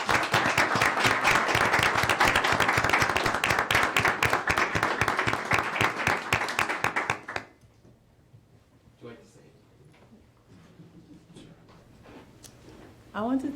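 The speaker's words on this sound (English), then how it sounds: "let's give Zainab a great round of applause" A dense, steady round of applause from a council meeting audience for Zainab lasts about seven seconds, then cuts off to near quiet with faint rustles and a few small clicks.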